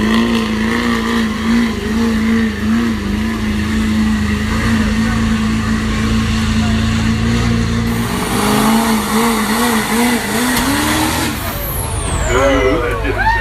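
Loud, continuous engine roar from a pulling truck at a 2017 Plain City truck pull, with the pitch holding steady and then rising and wavering as the load builds near the end, with crowd and announcer noise underneath.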